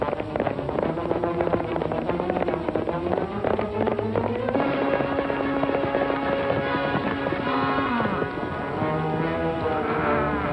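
A loose horse gallops off in an old Western film scene, its hoofbeats mixed into a dense, busy soundtrack of orchestral music throughout.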